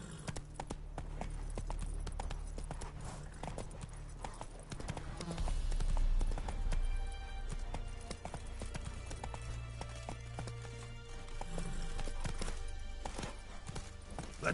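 The horse Roach gallops in The Witcher 3, with rhythmic hoofbeats pounding steadily throughout under game music and ambience, swelling louder in a few surges.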